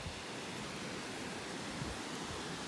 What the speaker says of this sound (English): Aside from an obvious water source and a pretty cool vol not volcano, waterfall